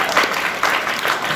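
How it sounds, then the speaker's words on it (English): An audience at a convention guest-of-honor Q&A bursts into applause, a steady wash of clapping hands in the room with swells as the round continues, no talk over it. "Again, a huge round of applause, please, for Jessie for handing out the cards."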